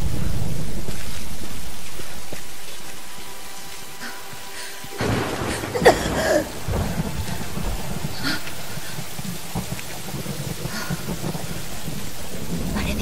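Rain falls steadily in the video game Tomb Raider, broken by a sudden loud thunderclap and rumbling that trail off into continued downpour.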